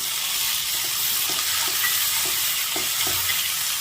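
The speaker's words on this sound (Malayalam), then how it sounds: "എന്നിട്ട് നന്നായിട്ടൊന്ന് വഴറ്റിയെടുക്കാം തക്കാളി ഒന്ന് വെന്തുടഞ്ഞ് വരട്ടെ" Chopped tomato stirred and sautéed in a pan for a Kerala-style roasted-coconut chicken curry, with a steady sizzle of frying and soft, repeated scrapes of a spoon at an even pace, close and alone without any voices.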